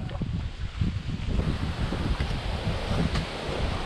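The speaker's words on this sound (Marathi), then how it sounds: "अरे यार, एवढा वारा नव्हता पाहिजे।" Strong wind gusts buffet outdoors beside water, a loud, rough, continuous rumble with fluttering bursts and no voices.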